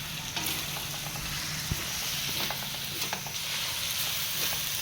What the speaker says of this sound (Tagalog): lumabas na yung mantika ng karne antayin nating mag brown